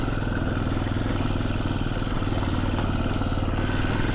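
A bigger motorcycle idles at the top of Santiago Peak in the Santa Ana Mountains, a steady low engine rumble with light mechanical clatter, close and constant throughout.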